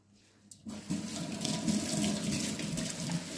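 Tap water runs onto a dark countertop as it is rinsed, a steady close splashing flow that starts abruptly after a brief quiet moment and continues to the end; no talking.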